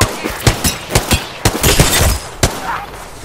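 Sharp bursts of gunfire from the shooter game Season 6 Voidwalker, several separate loud shots and short rapid volleys in an irregular rhythm, close and prominent with no talk.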